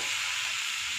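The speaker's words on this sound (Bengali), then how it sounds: "তেলটা মানে ভালোই গরম হয়ে গেছে, আর ছাঁকা তেলে এই যে নুন দিয়ে মাখিয়ে রেখেছিলাম আলুটা" Salt-rubbed potato pieces sizzle in very hot oil over a full flame, a dense, even, close hiss that holds steady throughout the brief moment.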